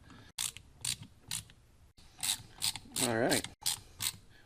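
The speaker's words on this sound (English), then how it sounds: "Let's put some screws in it." Screws are driven into a 3D-printed bracket for a car install, giving short bursts of close ratcheting clicks separated by pauses, with a brief spoken phrase partway through.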